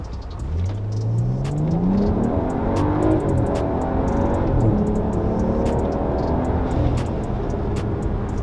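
A BMW fitted with an aFe Magnum Force Stage 2 intake accelerates hard on a run, its engine note climbing steadily through the gears in loud, continuous rising sweeps, close and without talk.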